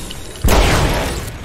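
A grenade explosion in the Apex Legends video game lands as a single sudden booming burst that decays over about a second, standing alone after a quiet moment.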